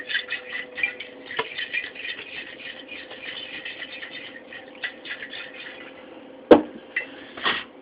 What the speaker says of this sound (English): So you can put the lid back on real quick. Mix it up real good.